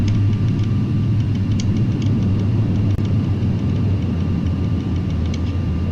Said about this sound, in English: we're doing our reverse thrust at the moment here